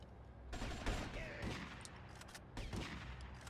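Dense gunfire from GTA Vice City, bursts of shots and a rapid fusillade running almost throughout, loud and close, with brief pauses between volleys.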